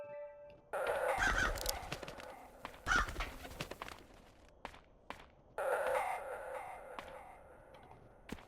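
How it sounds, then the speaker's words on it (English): Harsh caws from a crow in the video game Crow Country come in two loud bursts separated by a quieter stretch with scattered clicks and thumps like footsteps, no voices. "Kinda sounds like the call of a crow."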